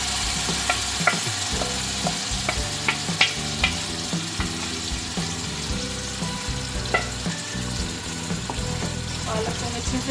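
Spinach frying in a spice masala for aloo palak, sizzling steadily with repeated clinks and scrapes of a spoon stirring the pan, close and continuous with no talk.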